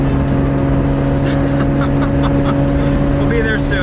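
Steady droning hum of a Lexus SC300 engine while driving, loud and constant from inside the car, with faint road noise layered over the drone.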